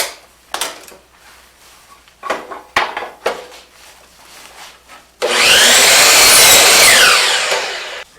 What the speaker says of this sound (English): run it through my table saw and I'm going to cut this rough edge off